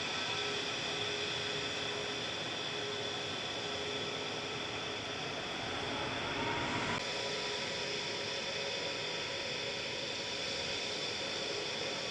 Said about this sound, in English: Just a brief spur to the reverse thrust.